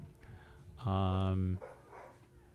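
A dog lets out one loud, drawn-out bark or howl that lasts under a second, set against quiet background chatter.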